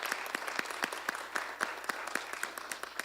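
Audience applause inside a church during a community event, steady clapping from a modest crowd with distinct individual claps, moderately loud and close, with no speech over it.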